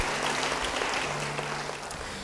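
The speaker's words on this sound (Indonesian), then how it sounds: "Yang mau beri tepuk tangan bagi Dia." Members of a church congregation clap for God during an Indonesian sermon, a continuous, moderately distant patter of applause carrying through the hall with a low hum underneath.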